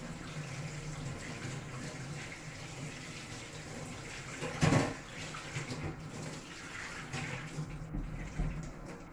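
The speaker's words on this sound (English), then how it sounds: "need to wash my hands again" Tap water runs in a kitchen sink as hands are washed, a steady rushing hiss with a brief louder gush midway, close by.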